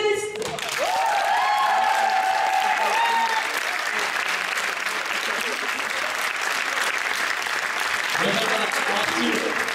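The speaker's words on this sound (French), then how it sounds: "un tonnerre d'applaudissements pour nos finalistes" An audience at a December 2022 speech contest final gives a roaring round of applause for the finalists, dense clapping that swells quickly and holds steady, with a brief high tone and faint voices near the start.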